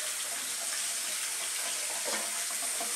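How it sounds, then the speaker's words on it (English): Make-up brushes rinsed under a running tap, a steady close rush of water splashing continuously and evenly for a few seconds, with no voices. "And then I'm rinsing it off."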